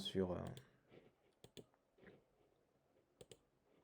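Faint, sparse computer mouse clicks on a booking website, a few isolated taps spread out after a brief spoken word at the start.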